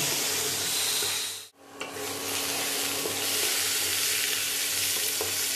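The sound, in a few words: stir-frying onion, garlic, ginger and tomato paste masala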